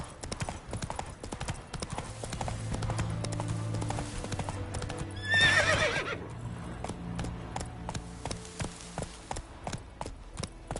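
A horse ridden in The Witcher 3 video game gallops with quick, rhythmic hoof clip-clops over a droning music bed, and a loud whinny bursts out midway before the steady hoofbeats carry on.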